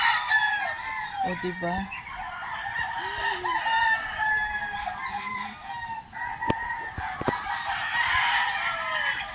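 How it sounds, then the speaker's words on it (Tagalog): Chickens and roosters on a walk, loud crowing calls repeating and overlapping with clucking nearby, a brief spoken exclamation partway through. "Ang ingay ng mga manok."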